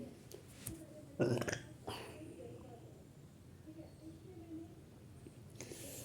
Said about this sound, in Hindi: देखा आपने, इस तरह के मुझे खट्टी डकार आ रही है